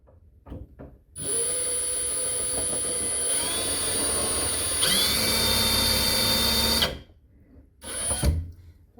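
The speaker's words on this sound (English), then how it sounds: "I'm just going to drill a quick little pilot hole." A power drill bores a quick pilot hole during a repair on an antique dresser drawer, whining loudly and steadily for several seconds up close, rising slightly in pitch mid-run before stopping, then giving a short second burst.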